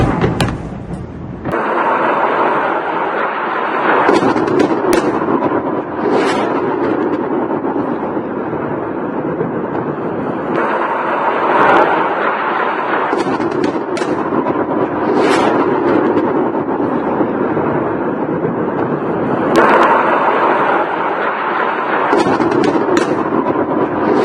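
A series of bomb explosions along bridges in Lebanon, heard as a sustained, loud, rumbling roar with repeated heavier booms and crackling surges rising out of the din throughout.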